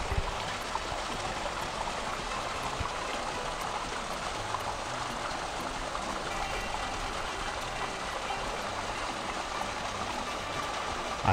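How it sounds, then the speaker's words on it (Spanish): Water runs steadily through an old stone irrigation channel in a historic town quarter, a continuous close rushing and trickling with no pauses and no speech. "Y aquí le entra el agua por esta acequia."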